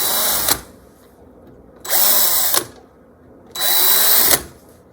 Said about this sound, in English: this is a 1/4 inch bit that I'm using